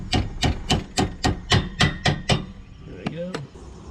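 Hammer tapping a shackle bolt into a Trailstar boat trailer for a Nitro boat, nine sharp evenly spaced metallic knocks in quick rhythm, close and distinct, followed by a brief ringing clink.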